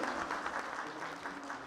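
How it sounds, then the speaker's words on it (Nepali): A dense wash of crowd applause at the final of a talent search competition, steady and moderately loud throughout the brief moment with no speech on top. "एकपटक उहाँलाई जोरदार ताली बजाइदिनु होला"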